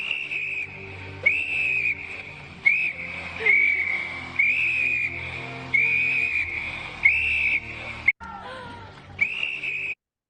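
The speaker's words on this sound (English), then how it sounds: "play the original scenery from Titanic, where Rose is blowing the whistle" Repeated shrill whistle blasts, about eight evenly spaced bursts, sounding from the original Titanic film scene where Rose blows a whistle in the water; loud and alone with a low background rumble.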